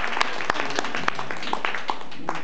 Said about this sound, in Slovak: Tak to si zaslúži potlesk